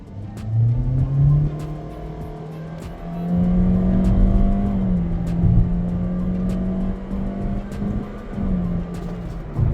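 A car engine revs up hard through rising gears, pitch climbing and dropping at each shift, loud and close, with brief clicks overhead.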